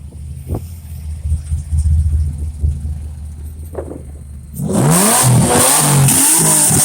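A Jeep engine at a car meet bursts into a loud, sustained rev that climbs and holds near the listener after a stretch of quieter idling and background crowd noise.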